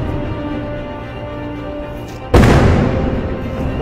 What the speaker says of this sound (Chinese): 大的爆炸声。